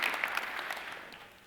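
Audience applause at EVE Fanfest 2013 during a CCP presentation, a steady wash of clapping from a crowd that gradually fades over a second and a half.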